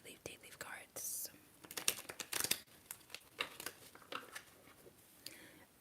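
Thick deck of tarot cards being shuffled close up, a run of soft papery riffles and crinkly slides in uneven bursts, with whispering heard alongside.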